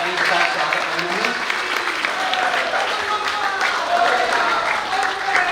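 A large audience at a Dara Shikoh memorial event in New Delhi claps in sustained, dense applause that holds steady throughout, with crowd noise mixed in.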